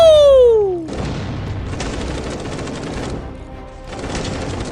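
Rapid bursts of gunfire in the video game Frontline Blockman Go crackle continuously after a descending whistle, with a brief lull near the end before the shooting resumes.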